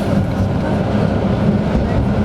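A city tram running on line 15, heard from inside as a steady, loud rolling rumble with a low mechanical drone and no break, and no talking.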